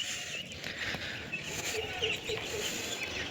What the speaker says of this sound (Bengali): আমাদের হাঁসগুলো অনেক বড় হয়ে গেছে আগের থেকে, আর অনেক চঞ্চল।